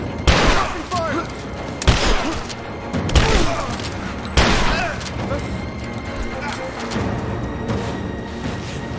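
Gunfire in the video game Rise of the Tomb Raider: several loud, sharp shots crack at irregular intervals over a continuous clatter of battle noise and distant booms.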